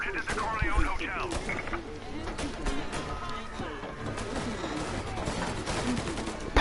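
Gunfire from a PS4 video game scene at the Corleone Hotel, dense crackling shots and bursts running continuously under game audio and voices, with an explosion-like crash at the very end.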